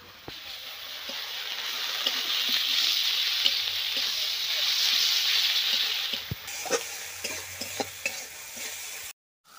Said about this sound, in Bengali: এখন আমার এই মশলাটা কষানো হয়ে গেছে